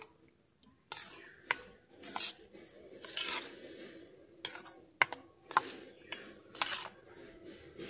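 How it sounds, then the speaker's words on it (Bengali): Semolina is worked together with water by hand, producing rhythmic, close, squelchy rubbing strokes in repeated bursts separated by short pauses, with no voices. "এবার আমি জল দিয়ে হালকা হালকা করে মাখতে থাকবো।"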